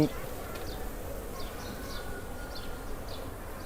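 Apis cerana indica honey bees buzz inside a hive box: a steady, dense droning hum that continues throughout, with faint higher chirps repeating above it.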